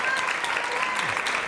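Studio audience applause at a political television panel, a steady, dense wash of clapping that runs the whole short stretch at moderate loudness.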